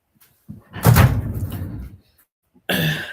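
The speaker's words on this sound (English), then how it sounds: "I'm going to close my door because I know my dog's about to bark." An indoor door swung shut during a home livestream, landing as one close, loud thud with a brief rustle before it and a second knock just after a short quiet gap.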